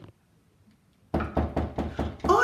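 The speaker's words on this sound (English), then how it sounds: "Remember I said if I hear a knock on the door, we might have a guest?" Several firm knocks on a door in quick succession, close and loud after a moment of near silence.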